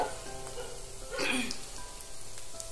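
Spices such as turmeric, chilli powder, cumin and coriander powder sizzle and fry in a pan for a chilli chicken curry, a soft continuous crackle that swells briefly in the middle over a faint tonal background.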